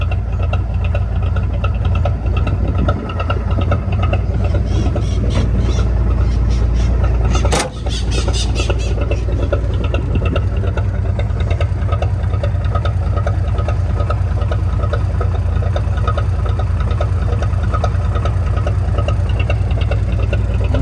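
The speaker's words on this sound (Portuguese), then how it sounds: "E aquele barulho de diesel e aquele cheiro de diesel de antigamente mesmo, né?" The diesel engine of a 1969 Ford F100 pickup idles with a steady, loud, rumbling clatter close by, broken by one brief knock midway.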